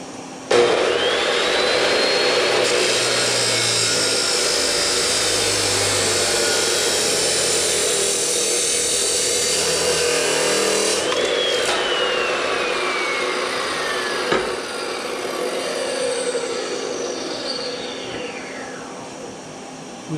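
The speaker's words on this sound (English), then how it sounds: "I'm going to cut two pieces short, 45 them, to go from, cut them to match this angle" Power saw or abrasive cutoff wheel slicing steel framing pieces to a 45-degree angle for a C-cab firewall, a loud continuous whine for about eleven seconds, then a pitch drop as the blade spins down and a second quieter cut follows.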